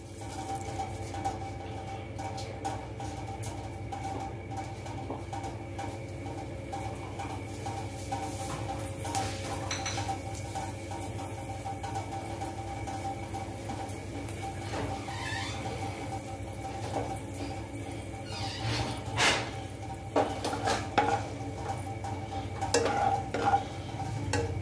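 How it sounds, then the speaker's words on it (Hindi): Fenugreek leaves crackling in hot oil while being stirred in a pan for an aloo methi sabzi, a steady low sizzle and scraping that runs throughout, with occasional louder clatters toward the end. "मेथी तड़कने के बाद में प्याज डाल देंगे"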